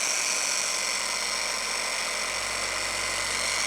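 A Junkman polisher scrubs damaged painted plastic car trim under added pressure, a continuous high, harsh whirring grind that stays loud and even, with a slight shift in the low hum near the end and no talk.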